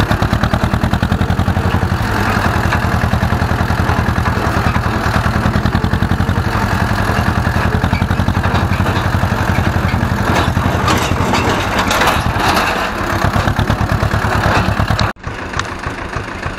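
An Ursus tractor engine runs continuously during field liming, a loud, close, steady chugging drone that holds for the whole stretch before dropping abruptly near the end.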